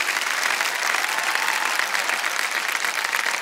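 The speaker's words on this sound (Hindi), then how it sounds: "ताली बजती रही।" Audience on the KBC India set breaks into sustained, steady applause, a dense wash of clapping that carries on evenly throughout without pause.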